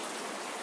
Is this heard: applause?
no